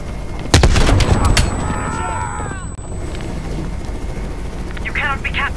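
A helicopter churns in the Call of Duty Black Ops Cold War campaign, mixed with sharp gunshots at the start and voices talking throughout.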